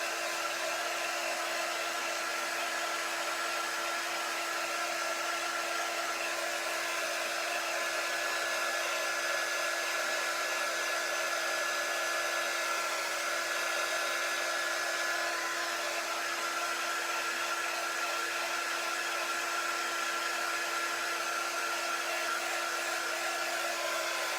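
A hair dryer blows steadily on a reusable silk screen transfer to dry it, a loud continuous whir that holds even from start to finish with no voices.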